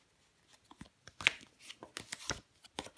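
Tarot cards being shuffled, handled and set down on a table in a quiet room, a series of soft close papery slaps and brushes spread over a few seconds, with one crisp snap near the middle.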